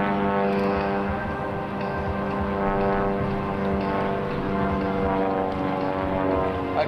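An aerobatic airplane with an IO-540 six-cylinder, horizontally opposed, air-cooled engine flies at a 2003 airshow, giving a loud, steady, continuous engine drone throughout.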